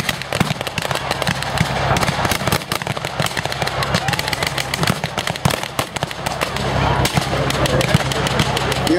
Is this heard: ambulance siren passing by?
no